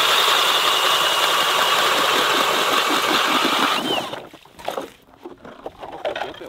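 A gas ice fishing auger engine runs loud and steady for about four seconds, then cuts out, leaving scattered knocks and handling noises on the ice.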